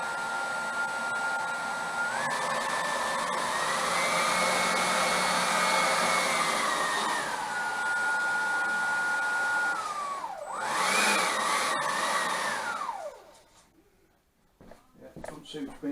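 An electric motor on a freshly built RC plane whines steadily at low throttle, its pitch climbing, holding, then dipping and rising again before cutting off, close and fairly loud.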